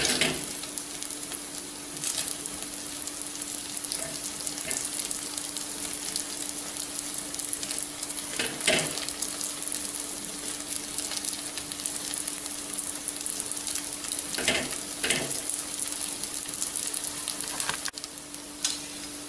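Pearl millet kuzhi paniyaram fry in oil in a pan, a steady close sizzle running throughout with a few brief scraping clinks as they are turned.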